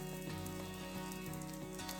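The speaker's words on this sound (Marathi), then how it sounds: "मी तवा आहे त्यामध्ये तव्यामध्ये करत आहे छान असं रोस्ट करून घ्यायचं त्याला" Cheese garlic bread roasting on a hot tava sizzles and crackles in a steady, continuous hiss, close and fairly loud, with no voices over it.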